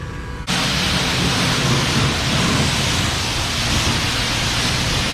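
A self-serve car wash wand sprays soap and rinse water onto a Chevy Impala, a loud, steady hiss of high-pressure spray. It kicks in abruptly after a short quieter moment and then runs continuously, close and constant.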